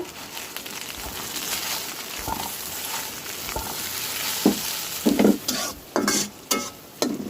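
Sliced onions soften in a pan with half a cup of water and seven or eight whole green chillies, hissing and sizzling steadily while a spoon stirs, scraping and clattering in louder bursts toward the end. No one speaks.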